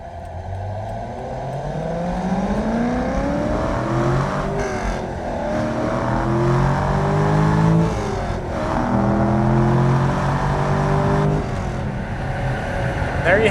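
A 2002 Chevrolet Corvette Z06 with a 5.7 LS6 V8 and six-speed accelerates on a test drive, engine tone climbing through the gears with shifts between, heard from inside over steady road roar.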